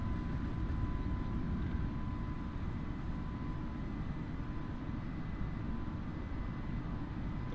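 A JetBlue airliner takes off from New York JFK in strong winds in Microsoft Flight Simulator, with a steady, loud, broadband engine roar that holds unbroken throughout and no voices.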